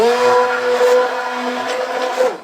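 An electric mixer whirs steadily through dessert batter, a loud constant motor drone that holds its pitch and cuts off at the end.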